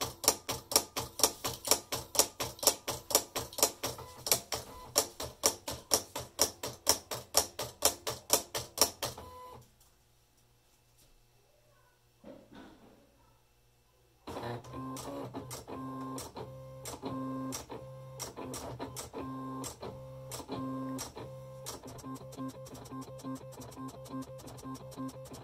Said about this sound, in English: you'll simply click send, and you are going to start cutting